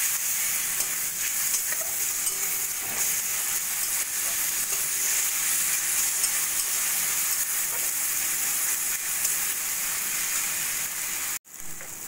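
Spices with ginger-garlic paste, cumin and chilli powder fried for egg curry, a loud continuous hissing sizzle close up with light stirring underneath, cut off sharply near the end.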